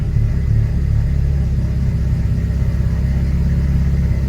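A BMW 335i single-turbo engine idles in gear with a steady, low, even rumble throughout, close and continuous with no voices.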